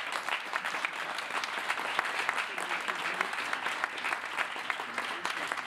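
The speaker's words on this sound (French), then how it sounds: "Donc je vous demande un tonnerre d'applaudissements pour monsieur Gilou." A theatre audience in Castellane applauds the sound and lighting technician, with dense, steady clapping from a large crowd that continues evenly throughout at moderate distance.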